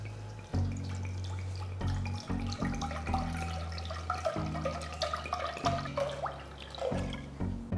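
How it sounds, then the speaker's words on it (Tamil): Water runs and splashes into a metal cooking pot, with a resonant pouring tone and some intermittent drips and clinks along the way. "அதுக்கு ஒரு பாத்திரத்தில் தேவையான அளவு தண்ணியை ஊற்றுங்க"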